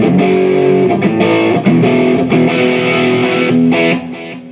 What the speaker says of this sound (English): that's a little too much delay there